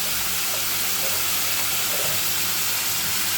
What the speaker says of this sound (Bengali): এবার সবার প্রথমে আলু আর পেঁপেটা একটু হালকা করে ভেজে নেব।